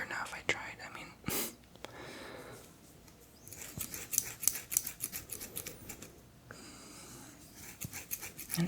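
Old scissors snip through hair in quiet, crisp clicks, scattered irregularly amid soft close-up whispering in an intimate roleplay setting.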